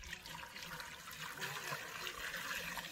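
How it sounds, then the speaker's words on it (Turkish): Water poured from above into a pot of prepared apples, a steady close splashing and gurgling stream that runs unbroken for a few seconds. "Şimdi suyunu koyacağım onun."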